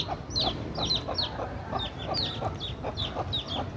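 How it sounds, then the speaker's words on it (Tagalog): Many chicks chirping close by among chickens, a steady stream of high, quick peeps repeating about twice a second over a low farmyard background. "Ang daming sisiw sa taas."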